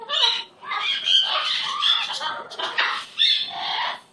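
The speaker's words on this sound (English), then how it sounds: "He's a sweet baby bird." A pet bird squawks and chatters in loud, harsh bursts close by, with short gaps between the calls and no other sound standing out.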